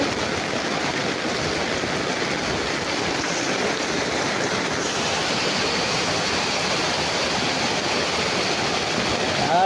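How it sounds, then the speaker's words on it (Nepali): Rainwater rushes across a road with poor drainage, a steady, dense, broad wash of flowing water that stays even and fairly loud throughout, with no one speaking. "पानी जति सबै रोडमा बगिरहेछ।"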